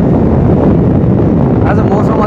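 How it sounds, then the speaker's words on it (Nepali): Cold November wind rushing across a Darjeeling hillside road near Batasia Loop, a steady loud roar buffeting the microphone with a low rumble throughout. "नोभेम्बर महिनाको यो चिसो हावा."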